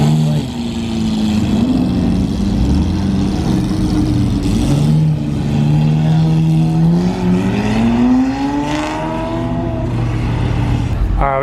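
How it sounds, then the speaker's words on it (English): A late-model Racecraft 1000-horsepower Cadillac CTS-V race car pulls out at an early morning car show, its loud, close engine rumbling low, then revving with a rising, wavering pitch before easing off. "we got the late model Racecraft 1000 horsepower CTSV headed out"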